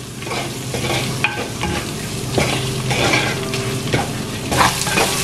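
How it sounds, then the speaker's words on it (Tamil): Curry powder, with roasted spices for a Sri Lankan pineapple curry, sautés in a pan over low-to-medium heat, a soft steady sizzle broken by stirring scrapes and clinks close by, with no talking. "போட்டுட்டு இதை வந்து 3 நிமிஷம் வதங்க விடுங்க."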